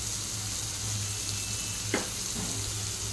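Paneer bhurji fries in a pan with a steady, close sizzle, and a single stir scrapes through it partway.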